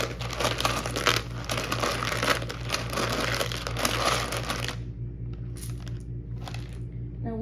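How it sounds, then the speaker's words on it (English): Paper tarot letter cards shuffled by hand, a close, busy crinkling and riffling for several seconds that ends with a few faint flicks, over a steady low hum. "and shuffle some letters."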